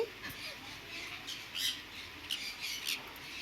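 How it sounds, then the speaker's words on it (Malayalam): Birds squawk in scattered bursts at a distance at a pet shop, faint sharp calls over a quiet background. "ഞങ്ങൾ കിളികളുടെ കൂട്ടത്തിലാണുള്ളത്"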